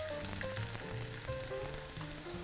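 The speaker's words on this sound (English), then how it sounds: "add a couple tablespoons of olive oil just to quickly saute our onion and apple" Onion and apple sizzle steadily in olive oil in a hot pan, a continuous crackling fry with no voices over it.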